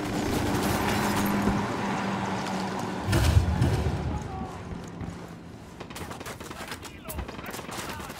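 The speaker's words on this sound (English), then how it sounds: "Opening fire." Gunfire in a firefight in Ghost Recon Wildlands, a busy mix of shots with a loud burst near the three-second mark, over a steady layer of game noise.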